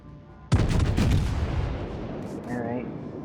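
Heavy naval guns firing from battleship turrets in World of Warships: a sudden loud, close boom at once with a rolling, rumbling tail, a second blast close after, then a lingering roar.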